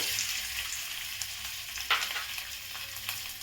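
Potatoes frying in hot oil for a Makar Sankranti khichdi, a steady close sizzle with a few sharp crackles and pops, no voices.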